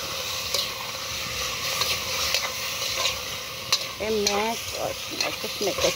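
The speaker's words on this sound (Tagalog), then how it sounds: "Itong isugkay pag-ayo para ma-mix ang salt." A spoon stirs nilatang chicken with salt in a pot, scraping and sloshing steadily through a constant background hiss, with a short tonal squeak partway through.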